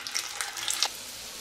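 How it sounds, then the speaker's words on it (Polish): Tuna meatballs sizzling in hot oil in a frying pan, a soft, steady hiss with faint crackles, brief and fairly quiet. "I moje klopsy lądują na patelni,"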